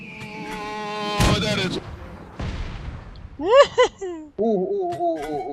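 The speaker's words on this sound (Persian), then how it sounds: "شلیک مرتار تو 2 تا حالت با نقشه و بدون نقشه است" Mortar firing in the video game PUBG comes through as sharp, booming blasts that land on top of sustained tones and game sound effects, loud and close, with a person talking at the same time.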